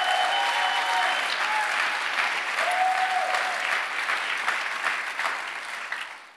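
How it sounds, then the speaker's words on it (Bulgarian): A church congregation applauding during a sermon, a dense, steady wash of clapping from many hands that gradually thins and fades out toward the end, with a faint voice briefly audible early on. "О, ако ръкопляскаш, ръкопляскаш,"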